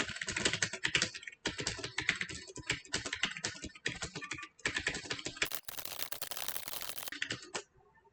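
Fast, dense typing on an Apple computer keyboard during an educational Disney typing game, with close, crisp key clicks in bursts separated by brief pauses.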